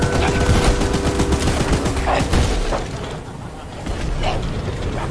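A gun firing in the game Choo Choo Charles, a rapid stream of shots that stays loud and dense, with a few heavier booms and a brief lull near the end.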